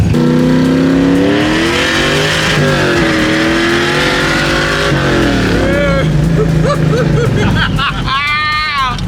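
A loud BMW M3 GTR sports car engine revs and climbs through gears close by, rising and falling in pitch, with people talking excitedly over it.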